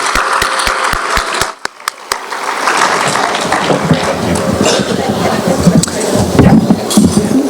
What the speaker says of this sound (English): let's give another round of applause for Sister Jane Marie Klein